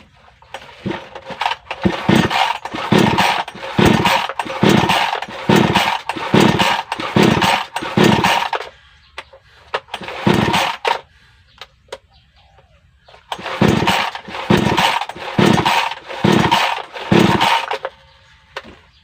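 A choked mini chainsaw with a hardened carburetor diaphragm is pulled repeatedly, its engine sputtering in loud, rhythmic bursts in two runs separated by a pause, and it never catches and runs.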